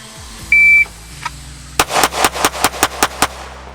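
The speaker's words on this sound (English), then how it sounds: "just trying to dump like 7 rounds center mass, quick as we can, off timer" A shot timer beeps, then a quick string of about eight pistol shots from a draw out of a concealed holster rings out loud and close in a rapid, fairly even rhythm.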